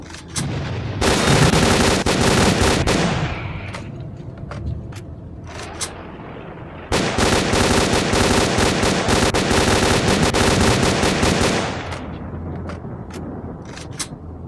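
An Abakan assault rifle with firing speed upgrades blazes in S.T.A.L.K.E.R.: Clear Sky, letting out two long, loud unbroken bursts of rapid automatic fire. A short quieter gap between them is dotted with a few scattered shots.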